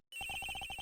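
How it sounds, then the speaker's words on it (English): A telephone rings in the Ace Attorney Investigations video game, with a rapid, even electronic trill that starts suddenly after a moment of silence and pulses steadily. "The ringing is coming from somewhere around here."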